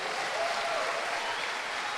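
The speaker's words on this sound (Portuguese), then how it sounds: "Você pode aplaudir isso bem forte" A church congregation at a finance conference claps loudly and steadily, a dense even wash of applause with no pauses throughout.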